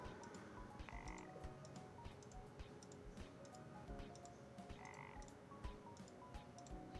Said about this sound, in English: Gotta kill these frogs.